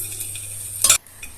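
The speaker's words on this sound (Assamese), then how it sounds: "কাজু কেইটা অকণমান ভাজি লৈছো" Cashews fry in ghee with a cardamom pod inside a pressure cooker. A soft, steady sizzle runs throughout, with one short, louder burst of stirring near the end.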